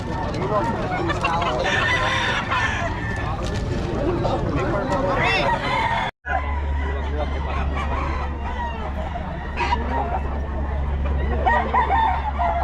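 Native chickens and a rooster at the Bocaue tiangge market crow and cluck close by, mixed into steady crowd chatter and people talking, with a brief dropout partway through.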